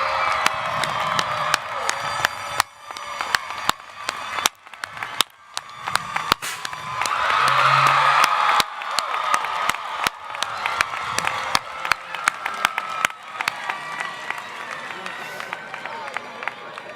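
A graduation commencement audience applauds and cheers in a large hall, with sustained clapping, scattered whoops and a swell of cheering midway, while a voice speaks over it.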